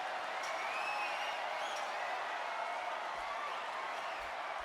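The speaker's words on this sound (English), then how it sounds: "listen to this capacity crowd" A capacity crowd cheering in an arena in a video game, a steady, dense roar of many voices that holds at an even level the whole time, heard at a distance with no clear talk over it.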